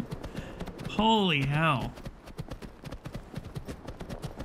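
Horse hooves clip-clopping in the video game Skyrim Elysium Remastered, a quick regular run of close, crisp hoof strikes continuing after a brief spoken exclamation.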